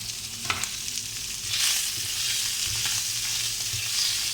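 Salmon and trout fillets frying in a dry pan without oil or butter, a steady loud sizzle and crackle with occasional scraping, continuous throughout with no talking.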